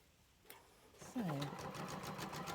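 Sewing machine stitching fabric for a project bag, its rapid mechanical whir starting after a brief pause and running steadily near the mic, with a voice speaking over it.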